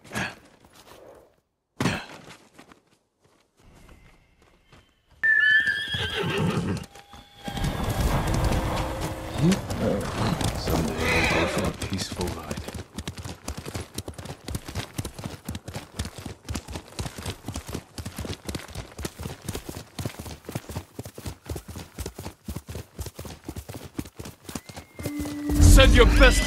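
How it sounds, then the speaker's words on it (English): Rapid rhythmic hoofbeats clatter for most of the stretch after a few sharp hits and quiet gaps, a galloping horse at close range with game-like effects in Ghost of Tsushima. "You're a good horse, Noble."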